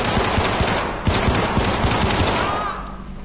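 Pistol fire in the PC video game Syndicate: a rapid run of sharp, close shots crackling in quick succession over a dense game backdrop, tapering off toward the end.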